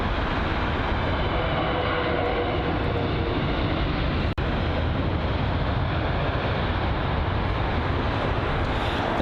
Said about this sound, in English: which has just arrived, was the Boeing 777-200ER, ER being extended range